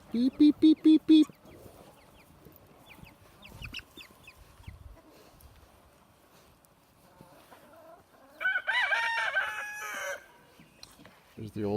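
Chickens at a chicken tractor, with young pullets and an older flock, give a sharp run of loud calls at the start, sparse clucking in the middle, then a strong crowing burst near the end.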